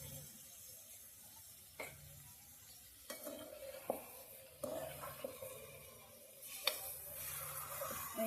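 Onions and tomatoes fry quietly in a pan over a wood-fired stove while a spoon stirs them, giving a soft steady sizzle with occasional scraping knocks against the pan.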